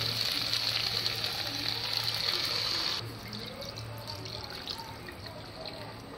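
Water hits a pan of cauliflower curry with a loud hissing rush that drops abruptly to a quieter bubbling, watery simmer and faint stirring, heard close and alone.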